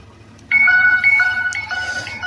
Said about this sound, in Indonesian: Suara color timernya ya ini.